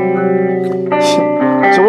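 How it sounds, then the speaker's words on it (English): Guitar through a Fender pedal combining reverb and tremolo, sustained chords with a wobbling, washy tail, close and steady, while someone talks over it. "That's a very nice reverb and tremolo."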